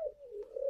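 A captive spotted dove at a breeding farm gives a short, soft, low cooing call, close and alone in a quiet setting.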